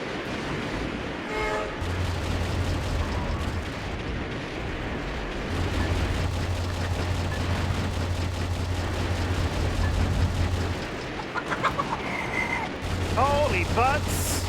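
Sustained gunfire and explosions from the mech shooter Metal Wolf Chaos XD, loud and dense for the whole stretch, a steady rumble with sharp bursts and synth tones near the end.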